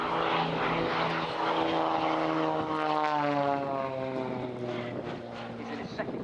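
An Extra 300 aerobatic propeller plane flies past at the RIAT airshow, its engine drone loud and then fading, with the propeller tone sliding lower as it moves away.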